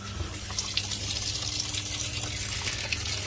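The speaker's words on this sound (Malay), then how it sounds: "Okey, ini air masuk." Water gushes steadily through the inlet valve into a Samsung WA70H4000SG top-load washing machine, a loud continuous rushing fill with a faint low hum beneath, no talking.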